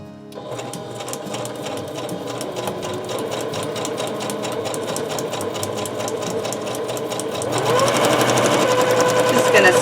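Rapid, continuous whir and clatter of a sewing machine stitching close by, growing louder and busier toward the end.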